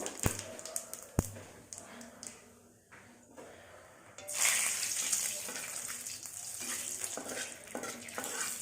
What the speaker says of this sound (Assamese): এইকেইটা জিৰাকেইটা ফুটি লওক। এয়া তেজপাত দিছোঁ মই